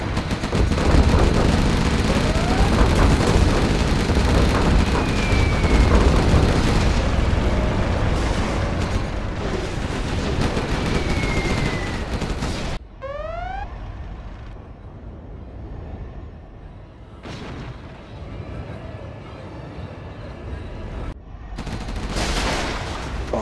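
Dense gunfire and booming explosions from a Command & Conquer Generals Zero Hour battle against seven AI generals rattle continuously, then give way to quieter, sporadic bursts and whooshing sounds.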